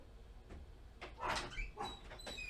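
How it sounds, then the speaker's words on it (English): A dog barks a few times at moderate distance indoors, short sharp bursts rising over a low room rumble, with no talk. "And now the dog's barking."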